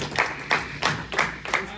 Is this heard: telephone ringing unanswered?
no